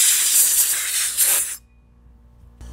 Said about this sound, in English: the trick to keep them from flash rusting is to blow them off with air right away